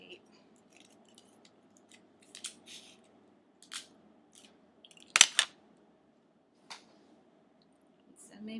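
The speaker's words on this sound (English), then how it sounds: "I'm just taking that Scotch tape and making sure everything stays put." Scotch tape pulled off the roll and pressed onto a fabric-wrapped hula hoop, a few sharp close rips and crackles scattered between quiet gaps, one louder tearing burst near the middle.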